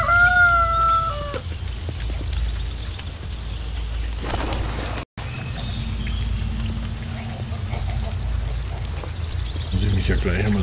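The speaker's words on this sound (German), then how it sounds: "Wir füttern den Gockel." A rooster in the game Force of Nature gives a clear crow in the first second and a half, then a few clucks. A steady game ambience with low rumble runs underneath, with no talk.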